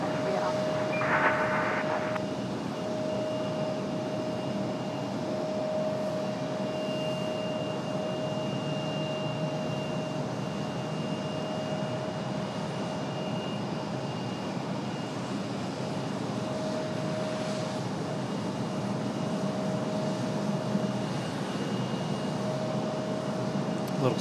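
A Boeing 737 Max jet engine starts up at Raleigh-Durham International Airport, a steady broadband roar with a sustained whine running throughout, heard from a distance as it holds at a constant level.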